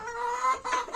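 Newly arrived chicks in a homemade brooder for a starting poultry business give a quick run of close, high, thin peeping chirps, repeated several times within a second with no talk.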